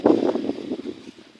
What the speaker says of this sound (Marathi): आज भरपूर वारं सुटलेलं आहे